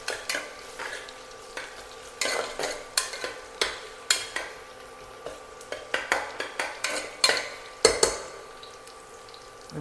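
Onions frying in oil for Kerala-style ghee rice in a pressure cooker, a spoon clattering against the pot in steady repeated stirring strokes over a soft sizzle, close and fairly quiet, with no talking.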